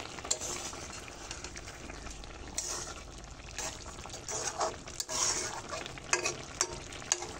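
Spinach wilting in a pan for a winter spinach and snakehead fish dish, with a steady bright sizzle and repeated scraping strokes of stirring at close range.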